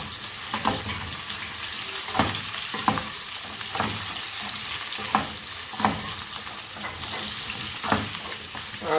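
Potatoes and carrots sizzle steadily in hot oil in a pan while being stirred, with periodic scraping knocks from the spoon recurring every second or so, close and continuous with no talking.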